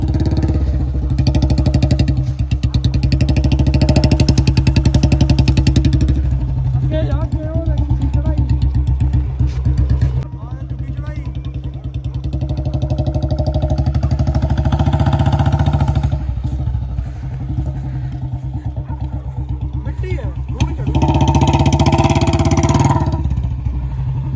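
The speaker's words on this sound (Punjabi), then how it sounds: "ਅੱਜ ਲੱਗੇ ਮੈਂ ਬੁਲਟ ਨਾਲ ਆਫਰੋਡਿੰਗ ਕਰਨ" A Royal Enfield Bullet motorcycle engine runs loudly and steadily throughout, revving and labouring with clattering thumps while off-roading over rough ground; a voice talks over it.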